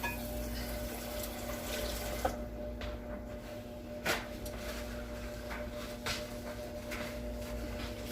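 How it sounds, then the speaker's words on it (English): Water runs from a kitchen tap as a casserole dish is rinsed, a quiet steady flow under a constant hum, with a few soft knocks and clinks of the dish. "I'm gonna rinse it out"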